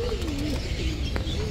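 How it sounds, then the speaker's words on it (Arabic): Pigeons of several breeds, including Saxon, roller and English carrier types, at an animal and bird shop in Baghdad, with one clear coo line rising and falling over a constant low hum and background noise. "عده نوعيات من الحمام"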